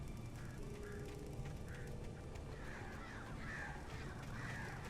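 Crows cawing in the video game Alan Wake, with repeated harsh calls coming in bursts over a steady ambient background and no talking.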